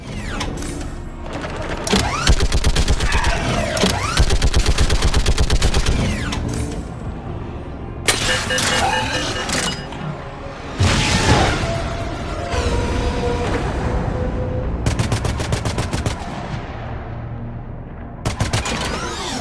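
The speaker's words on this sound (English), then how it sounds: "at least we get to shoot this very farty turret some more" A turret in Mass Effect 3 fires in long rapid bursts with a low, rough, sputtering tone, separated by brief pauses, loud and close amid mechanical game noise.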